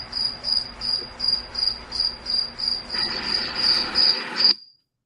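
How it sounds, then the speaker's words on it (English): Steady rhythmic cricket chirps, about two pulses per second, close and clear, with a brief noisier swell near the end before the sound cuts off. "here's the problem with hearing crickets"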